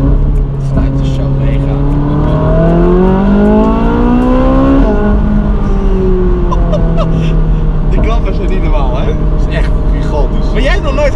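A Ferrari 458 V8 engine revs high, its pitch climbing steeply to a peak, dropping, then surging again in shorter blips, loud and close with a muffled voice underneath.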